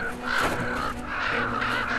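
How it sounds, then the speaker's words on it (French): Crows cawing in the Arctic around a carcass, several harsh repeated caws in quick overlapping bursts, fairly close and loud, with no talk. "Si seulement il n'y avait pas ces corbeaux."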